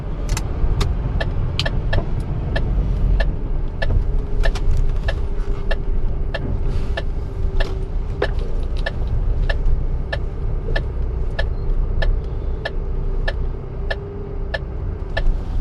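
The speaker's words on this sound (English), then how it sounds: "Car over there." A car passes on a road near a kerb, its steady engine and tyre rumble continuing throughout, with a regular faint clicking, like an indicator, ticking over the top.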